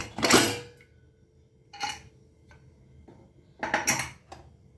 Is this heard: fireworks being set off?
no